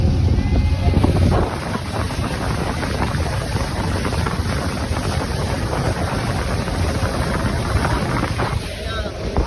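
A fiberglass passenger boat, the MB Adelante, runs its engine on a sea trial at high speed, giving a loud, steady roar mixed with rushing water and wind buffeting the microphone throughout.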